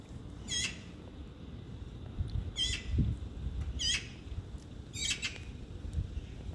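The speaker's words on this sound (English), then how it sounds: "These birds you must be hearing, definitely." Loud, sharp squawking bird calls in a garden repeat about once a second, four or five bursts over a low, steady background rumble.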